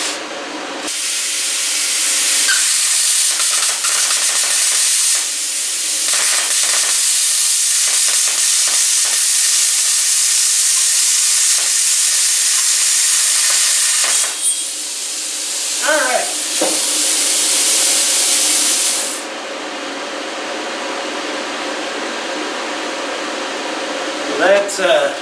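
A cheap Amazon Cut50 plasma cutter cuts a small clamped piece of metal, giving a loud, steady hissing roar that runs for long stretches with brief breaks, then stops near the end; someone talks between cuts.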